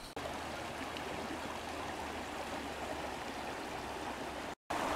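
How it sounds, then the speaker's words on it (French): A forest stream flowing steadily, a broad continuous rush of water close by that fills the whole clip, broken only by a split-second dropout near the end. "J'avais prévu m'installer près du ruisseau"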